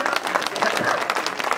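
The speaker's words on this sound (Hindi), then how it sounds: "जोरदार तालियां" Loud, dense applause fills a Hindi kavi sammelan poetry gathering in Prayagraj, steady rapid clapping from a crowd with a faint murmur of voices underneath, continuous from start to end.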